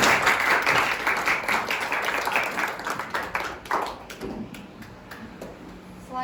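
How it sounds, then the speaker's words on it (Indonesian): A student audience applauds a panelist at a high school panel discussion. The clapping is moderately loud at first, then fades to scattered individual claps near the end. "Boleh kita tepuk tangannya untuk"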